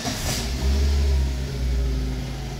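A Chery QQ hatchback engine catches and revs, a low, close mechanical drone that swells and then eases back over a short span, with no talking.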